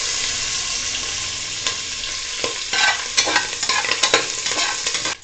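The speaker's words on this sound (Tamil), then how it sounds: "இப்போ நம்ம வறுத்து கழுவி வச்சுருக்க அரிசியும் பைத்தம்பருப்பையும் இதுக்குள்ளே சேர்த்துருக்கோம்" Washed rice and moong dal frying in a pan with curry leaves for khara pongal, a bright steady sizzle with scraping stirs that grow busier toward the end, close and loud, no voices.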